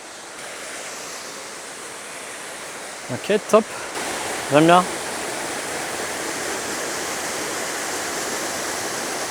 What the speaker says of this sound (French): Nouvelle petite cascade.